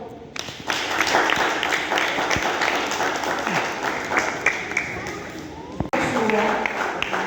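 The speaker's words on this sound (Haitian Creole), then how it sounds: "Merci, on applaudit encore." Audience applause fills the room with dense, steady clapping for several seconds, briefly breaking off before a fresh burst of clapping resumes near the end.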